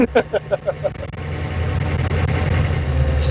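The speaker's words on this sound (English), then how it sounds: "It's making the same sound that a city bus makes when it slows down." A 1986 Ford F350 Megacab truck drives with a steady low engine rumble and whining gears and bearings, preceded by a few short rhythmic thumps, loud and close from inside the cab.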